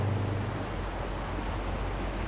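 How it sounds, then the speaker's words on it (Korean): A cod fishing boat pushes across the sea at dawn, a steady low rumble of hull and engine mixed with broad wash of water and wind noise, continuous and fairly loud throughout. "대구잡이 어선한 척이 새벽 바닷길을 재촉하고 있다"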